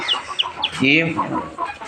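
Naked-neck chicken chicks in a cage cheep in quick, high, bright peeps, several birds overlapping in a busy flurry, with a louder clucking adult hen call mid-way, close and fairly loud.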